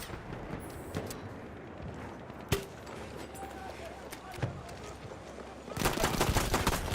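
Battlefield 1 pistol fire, a few sharp isolated shots spaced irregularly against a low background bed, closing with a louder cluster of rapid shots.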